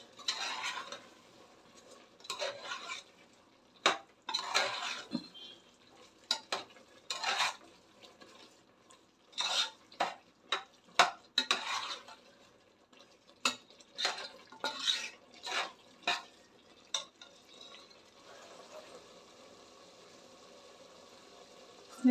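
Sambar spice powder cooking in hot oil in a pan while a spoon stirs it, giving repeated close scraping and metal clinks in uneven bursts with a soft sizzle underneath and no talking.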